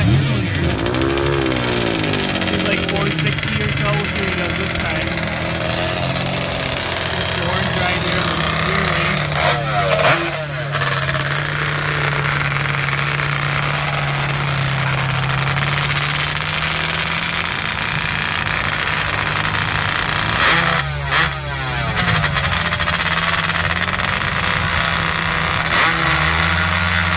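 A 4-stroke drag racing motorcycle launches down the strip at a bracket racing event, its engine a steady loud drone with a couple of sharp bursts partway through, set against a noisy outdoor backdrop that may carry voices.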